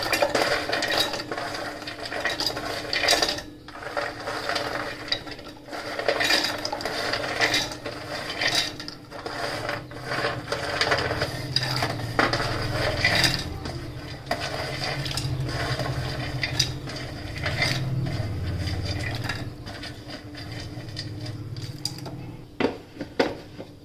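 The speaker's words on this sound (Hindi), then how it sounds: "अब हम इनको मिक्सी में पीसेंगे।" A kitchen mixer grinder grinds dry-roasted ingredients for baby food with a continuous rattling, churning whir that runs for over twenty seconds, close and fairly loud, with no speech.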